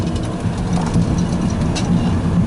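BMW E90 328i sedan driving down a highway exit ramp in manual mode, a steady low engine drone with road rumble heard from inside the cabin, fairly loud and without talk.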